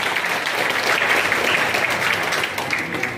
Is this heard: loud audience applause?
yes